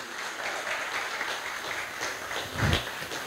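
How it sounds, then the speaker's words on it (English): Audience clapping at a health Q&A session with doctors, a moderate patter of hands from a smallish crowd, fairly steady with a brief louder burst near the end. "give yourself a round of applause"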